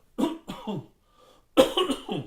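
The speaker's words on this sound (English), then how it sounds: "I think I coughed earlier on too" Two bursts of close, loud coughing, each a double hack, separated by a short quiet gap.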